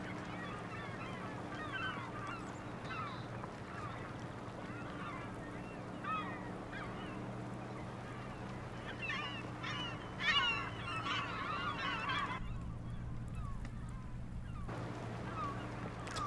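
Seagull calls in Farming Simulator 25, repeated honking squawks scattered across a steady outdoor game ambience, moderately distant and fairly quiet throughout.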